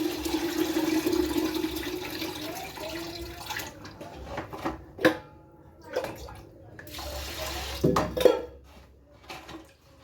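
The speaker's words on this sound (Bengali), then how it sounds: "চালটা আমার ধোয়া হয়ে গেল" Rice is washed in water at a kitchen sink: sloshing, splashing bursts stream steadily at first, then break into intermittent swishes and pours close to the microphone, with faint talk in the background.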